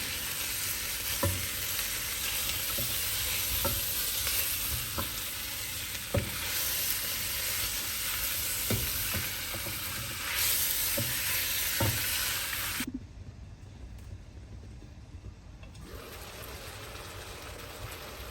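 A mixture with ginger sizzles steadily in a pot for a Moroccan rfissa, with soft scraping taps of stirring throughout before the frying noise drops suddenly near the end.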